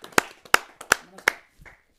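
Four or five sharp claps in a sparse, irregular run from a small audience welcoming a poet, Shri Virendra Singh Kaushal of Aligarh, to a poets' gathering; close and fairly loud, fading out after about a second and a half.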